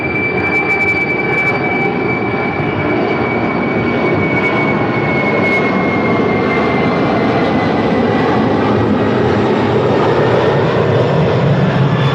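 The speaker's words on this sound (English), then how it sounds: "That is Atlas Air 8829 departing to Fairfield Travis Air Force Base" Atlas Air jet airliner on its takeoff departure toward Travis Air Force Base, a steady loud engine roar with a faint high whine, continuous and unbroken throughout.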